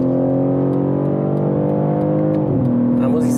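A BMW M3 Touring engine in Sport Plus mode revs steadily higher under hard acceleration with a smooth rising drone, then dips briefly as a gear shifts before climbing again, loud and close.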